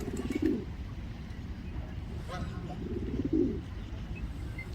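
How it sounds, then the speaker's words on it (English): A pigeon coos twice in soft, low, throaty bursts over a hazy background hum, with a little speech nearby. "Pigeon."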